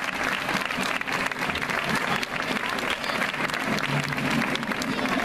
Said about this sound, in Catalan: que li donem un aplaudiment ben fort